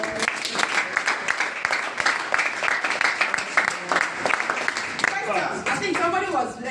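A class audience breaks into steady clapping, a dense patter of many hands, with talk rising over it toward the end.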